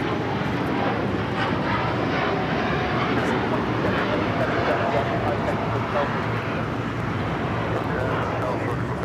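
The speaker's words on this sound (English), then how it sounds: "This is United Airlines Flight 32 taking off to Tokyo Narita on the 787-9 Dreamliner." Boeing 787-9 Dreamliner airliner of United Airlines taking off at LAX, a steady, broad engine roar heard from a distance with wind noise, holding constant throughout while people talk nearby.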